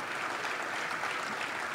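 Steady applause from an audience at a 2021 sports awards ceremony, a dense, even wash of many hands clapping, sustained throughout at moderate volume with no talking.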